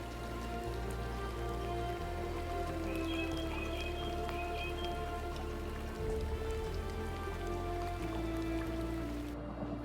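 Steady rain falling during a storm on Zambia's Liuwa Plain, a continuous dense patter of drops with a low rumbling undertone, fairly loud and unbroken throughout, with no voices.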